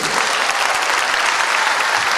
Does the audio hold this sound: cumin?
no